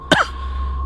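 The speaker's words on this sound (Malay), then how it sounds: "pakar tu terbatuk." A man gives one short, sharp cough near the start, close to the mic, over a steady low hum with faint noise after it.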